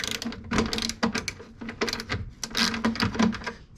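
Ratchet loosening 7mm speaker bolts inside a Pontiac Trans Am door, with close, quick bursts of sharp clicking in an uneven rhythm and brief pauses between strokes.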